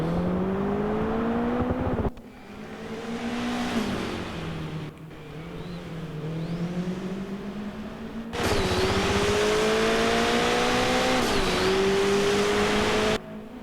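Rally car engine in Project Gotham Racing 4, revving loud and close with repeated gear shifts, throttle lifts and sharp acceleration bursts, no talking.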